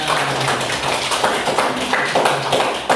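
A group of people clapping hands together in a classroom lesson, a fairly loud, continuous patter of many claps with a few sharper individual hits, no talking over it.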